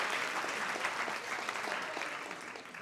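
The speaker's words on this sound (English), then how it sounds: "Give her a big round of applause." An audience at a business conference keynote claps steadily throughout, a dense wash of applause from many hands in a room that tapers slightly toward the end.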